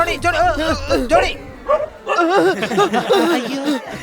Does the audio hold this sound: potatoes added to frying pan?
no